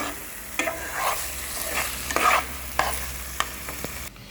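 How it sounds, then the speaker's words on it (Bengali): Chicken curry spices stirred in a hot pan for Punjabi chicken curry, a steady frying sizzle broken by repeated scraping strokes of a spoon at an uneven pace, close and moderately loud with no voices. "এবার এটা মিনিট একের মতন এইভাবে নাড়িয়ে কুক করে নেব"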